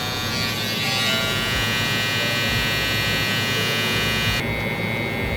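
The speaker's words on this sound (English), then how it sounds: "with my trimmer upside down like this, I'm gonna just tickle that spot, just rub that spot" An electric hair trimmer buzzes steadily and close up while it works across the head during a low taper fade, a constant bright whine with a slight change in tone near the end as the blade moves against the hair.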